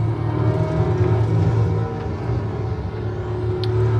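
A rear-engine car in a driving game hums with a steady, loud low engine drone and whirring rumble, holding constant without clear revving.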